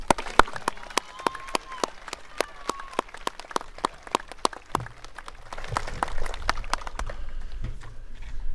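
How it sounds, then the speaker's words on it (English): Graduation ceremony crowd at Mayville High School, 2021, clapping for a student: sparse, scattered claps from a modest number of people, fairly quiet and uneven, with a faint murmur and rustle building toward the end. "And special applause for Jenna as she read all the names."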